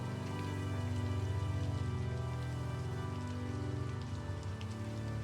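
Slow, steady rain falls in a dense, even patter that holds constant throughout, close and enveloping, with no voices.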